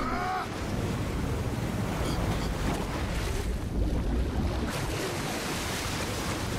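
Steady broadband water wash with surf-like rushing and wind fills the scene as Ellie plunges into the water in The Last of Us Part 1, constant and fairly loud with no speech.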